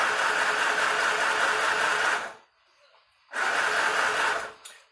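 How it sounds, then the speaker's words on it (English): Sewing machine stitching a skirt, running in a fast steady whir for about two seconds, pausing briefly, then running again in a close, loud burst. "you want to take your pins out as you're sewing"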